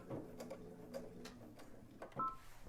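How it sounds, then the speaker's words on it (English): A sewing machine back stitching during embroidery work, producing short soft mechanical whirring bursts and clicks at close range in a quiet room, with no speech. "So I'm just back stitching right there."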